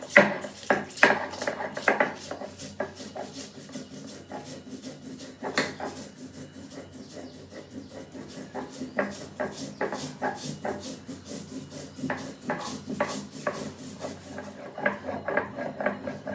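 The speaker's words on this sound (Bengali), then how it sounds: "আমি এবার পোস্তটাকে বেটে দেবো" Poppy seeds with green chillies ground on a grinding stone, with repeated scraping and rubbing strokes in an uneven rhythm, close and moderately loud.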